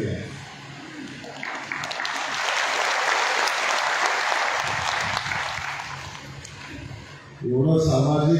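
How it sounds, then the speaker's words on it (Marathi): A crowd at an Indian Red Cross relief gathering for Barshi taluka flood victims applauds. The clapping swells to a full, dense peak, tapers off, and a voice then takes over at the end. "या टाळ्या आमच्या रेड क्रॉस सोसायटीसाठी आहे"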